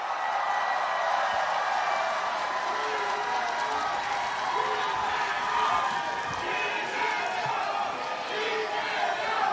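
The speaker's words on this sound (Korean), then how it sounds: "우리 기다렸던 이재명 후보님의 연설을 박수로 청하겠습니다." Crowd at an outdoor election rally for candidate Lee Jae-myung in Seomyeon, Busan, a dense, mid-level wash of clapping and cheering that swells and dips over several seconds, with scattered shouts in the mix.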